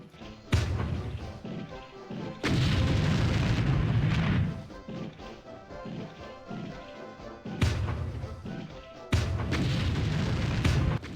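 Bazooka shots and heavy explosions from the 1999 video game Army Men 2 come as loud booming bursts, several long blasts separated by short quieter gaps.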